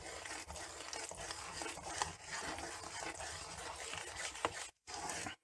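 Flour, water and extra virgin olive oil being stirred together into homemade bread dough, a steady close scraping and sloshing texture with a short silent gap near the end.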